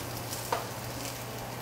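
Shallots, onions, garlic, ginger, chili and scallions frying in oil for spicy beef noodle soup make a steady sizzle, with one short clatter as something strikes the pan.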